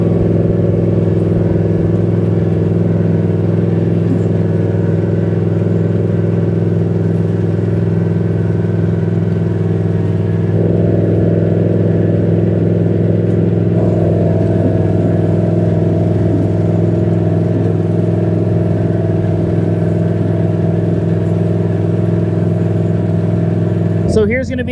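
A lawn tractor drives steadily while pulling a lawn sweeper over dried grass clippings, giving a constant mid-pitched engine drone with a slight shift in tone partway through and a clatter at the very end.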